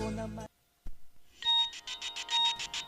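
A telephone rings for an incoming call. A brief tonal sound cuts off, then there is silence and a click, then an electronic ringtone pulses in repeated bright bursts, fairly close, with no talking.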